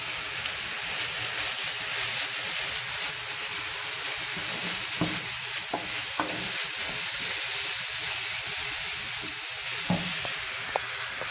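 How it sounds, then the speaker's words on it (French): Minced beef sizzles steadily in a hot pan, a dense broad hiss with occasional clicks and crackles of stirring, heard alone without talk. "ma viande hachée commence à cuire"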